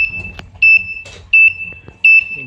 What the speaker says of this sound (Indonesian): Ini jika kita turunkan dayanya, maka buzzer sama